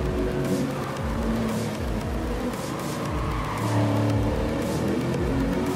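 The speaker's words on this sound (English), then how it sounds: "getting some nice shots of us going round the Mount Panorama motor racing circuit" Race cars lapping the Mount Panorama circuit in the GT Sport video game, engines roaring and whining through gear changes, steady loud drone with cars passing close.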